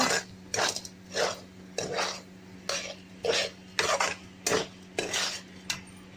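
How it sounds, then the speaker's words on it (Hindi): A spoon scraping and clanking in a pan while lemon juice is stirred into dry green keema: about a dozen rhythmic, close metallic strokes with short gaps between them over a low steady hum. "फ्लेम ऑफ करने के बाद से इसमें हम ऐड करेंगे लेमन जूस। इसको हम अच्छे से मिलाएंगे।"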